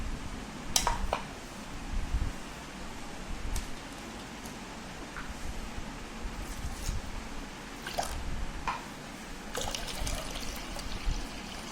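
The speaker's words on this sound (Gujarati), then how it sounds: "હવે આપણે એમાં પાણી નાખશું" Water is poured into crushed raw mango and sugar, producing a quiet trickling and dripping with a few soft splashes and wet squishes, heard close with no speech.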